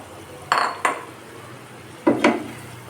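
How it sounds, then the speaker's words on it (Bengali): Fried potatoes tipped into a pan for a jackfruit and prawn curry, giving two pairs of clanking, scraping knocks of utensil against metal with quiet gaps between, fairly close and with no voices. "এখন ভেজে রাখা আলুটা দিয়ে দিচ্ছি"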